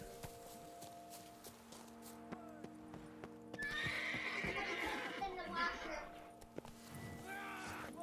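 A horse in the video game Witcher 3 clip-clops with steady hoofbeats, then neighs loudly in a whinny, while someone talks over the game sounds.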